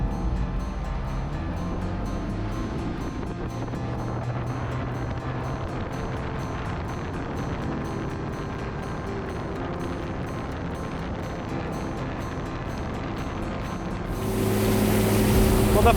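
An aluminum fishing motorboat runs on open water with a steady engine drone, hull slap and wind buffeting the microphone, swelling louder near the end.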